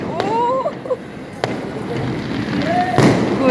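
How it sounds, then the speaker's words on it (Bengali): New Year fireworks burst outdoors with sharp distant bangs and rising whistles, while people talk nearby over the celebration. "আতশবাজি পড়তেছে"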